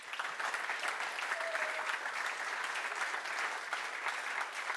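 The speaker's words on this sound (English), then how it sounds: "Big applause for our gold sponsors." Conference crowd at the Neos Conference giving sustained applause for its gold sponsors, a steady, fairly distant patter of many hands clapping with no voices over it.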